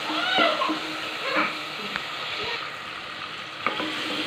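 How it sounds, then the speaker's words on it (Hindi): Tomatoes and masala being stirred in a pan while cooking for a tinda dish, a soft steady sizzle with a few scraping spoon strokes, moderately close and alone. "और इसको अच्छी तरह ऐसा हिलाएंगे और इतना पकाएंगे कि ये टमाटर जो हैं हल्के हल्के जो है वो गल जाएं"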